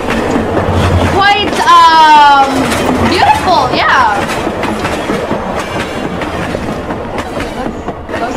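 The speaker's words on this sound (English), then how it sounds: "Yay, the train came." A train pulls into a station in the Roblox game Escape Mommy Long Legs Obby, its clattering wheels and squeaking rolling past loudly for a few seconds while players chatter over it.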